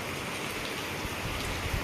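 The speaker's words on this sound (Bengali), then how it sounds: "আরে কি বৃষ্টি, কি বৃষ্টি," Heavy monsoon rain falls in Hyderabad, a dense, steady hiss of drops pelting surfaces all around. It holds at an even, fairly loud level from start to finish, with no voices.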